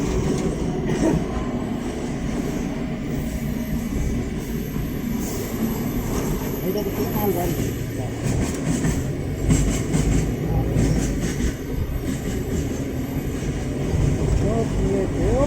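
A goods train crosses the long Farakka Barrage bridge with a loud, continuous rumble of wagons and rattling wheels, plus occasional high wheel squeals. People talk close by over the noise.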